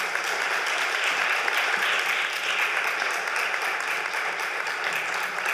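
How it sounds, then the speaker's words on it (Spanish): Sustained audience applause at a Spanish Parkinson's research health forum welcoming a speaker to the stage, a thick, steady roar of many hands clapping from start to finish with no voices over it. "Para ella también pido un aplauso"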